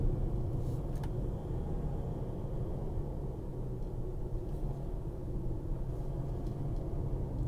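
Car interior rumble while driving slowly uphill on a winding serpentine mountain road from Akvaloo to Dagomys, a steady low engine and road drone with no pauses.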